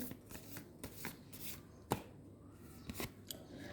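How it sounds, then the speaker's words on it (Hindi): Tarot cards being shuffled by hand, a close, steady riffling rustle with a few sharper snaps, with no talking. "यूनिवर्स मेरे व्यूवर्स के लिए एक कार्ड दीजिए।"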